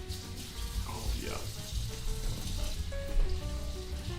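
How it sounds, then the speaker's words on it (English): Fried breadcrumbs crackle and sizzle softly in a pan, a steady, subtle hiss with tiny pops running throughout while voices talk over it. "Oh, it's sizzling. It's subtle. It's a silent sizzle."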